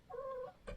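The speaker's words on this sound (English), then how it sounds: "That's my cat, hold on." A house cat gives a single short meow, faint and close, followed by a brief soft thump, with no talking.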